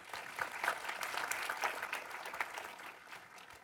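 Audience at a talk on comics and graphic novels breaks into applause, a moderate patter of many hands that swells early and gradually thins out, fairly soft and somewhat distant.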